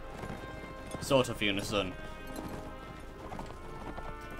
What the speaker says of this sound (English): Just sound of our galloping horses bursting across the horizon in unison